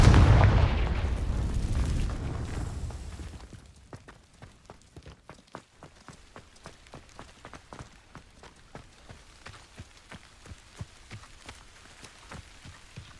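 Confringo fire spell explosions in the video game Hogwarts Legacy: a loud roaring burst at the start fading out, then a long run of rapid, evenly spaced sharp pops and crackles of modest level.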